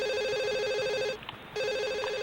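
A telephone rings in The Sims Bustin Out, an electronic game phone trilling in two bursts separated by a brief pause, loud and close with no other sound.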